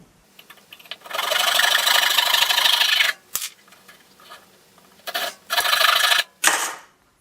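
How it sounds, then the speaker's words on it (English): A handsaw cuts through wood to free a nutcracker's feet, giving a steady rasping stroke for about two seconds, then shorter sawing bursts after a brief pause, close and fairly loud. "And now I'll just use a handsaw to cut this free."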